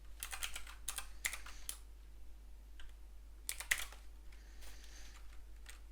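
Quiet keystrokes on a computer keyboard come in short bursts of quick taps separated by pauses, with a low steady hum underneath.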